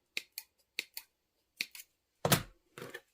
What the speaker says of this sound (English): you're just going to snip it a little bit so you can get in there and turn it right side out